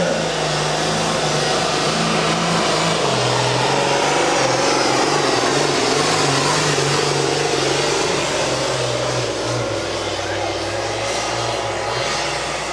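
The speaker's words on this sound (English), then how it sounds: "Hear those turbos engage." A turbocharged pulling truck engine roars at a county fair truck and tractor pull, a loud, sustained whining drone that holds steady with slight pitch shifts for the whole stretch and no voices.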